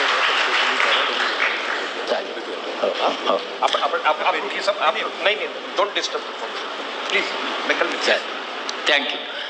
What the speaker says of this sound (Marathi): सगळ्यांनी टाळ्या वाजून त्यांच्यासाठी थँक्यू